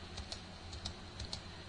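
Computer keyboard keys pressed in a few separate clicks, spaced about half a second apart, quiet and close over a low steady hum, while navigating an augmented reality program.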